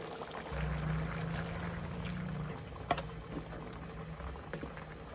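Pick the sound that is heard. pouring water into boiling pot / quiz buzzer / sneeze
pouring water into boiling pot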